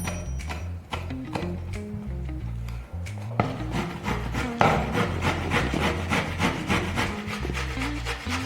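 Fresh ginger rubbed against a hand grater in a kitchen, a quick steady rasping rhythm of close scraping strokes that grows denser and slightly louder partway through.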